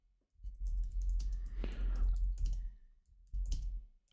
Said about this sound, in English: Sorry, now I'm typing too.